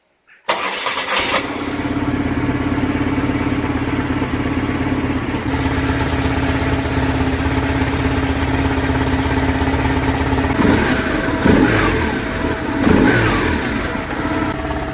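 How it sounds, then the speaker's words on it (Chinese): A BMW R-series GS motorcycle with an air- and oil-cooled horizontally opposed twin-cylinder boxer engine starts up, then idles steadily and loudly, with a few throttle blips near the end. "先大家听一下发动机声浪。"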